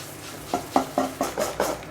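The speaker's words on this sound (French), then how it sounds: "On va mélanger tout ça." Lemon poppy seed yogurt cake batter is mixed in a bowl with about six quick, evenly spaced stirring strokes, close and fairly soft, with no voices.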